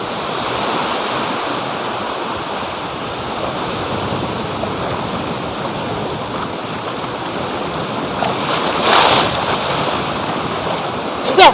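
Sea waves roll in as a continuous loud rushing wash of surf with gusty wind against the microphone, swelling slightly near the end, and no voices heard.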